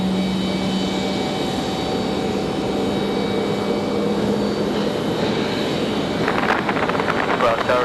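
An Airbus A321 airliner on approach to land at Raleigh-Durham airport, its steady engine roar and whine sustained throughout, with a rising rumble near the end, while tower radio chatter runs intermittently.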